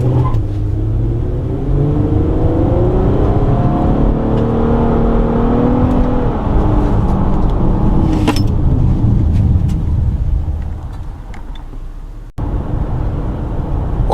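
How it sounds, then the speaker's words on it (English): A 2014 Nissan Quest van's engine pulls hard under acceleration, a loud, rising whir and rumble of revs climbing through the gears, close up and continuous with brief dips. "The Nissan engine has some good pickup."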